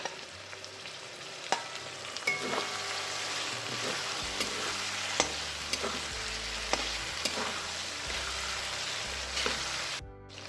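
Chopped tomato and egg sizzle and fry steadily in a pan, with occasional clicks of a utensil scraping and stirring, close and continuous with no talking.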